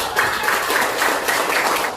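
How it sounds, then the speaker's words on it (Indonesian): A classroom of students claps together in a steady, dense burst of applause that lasts a couple of seconds, fairly close and loud. "Tepuk tangan."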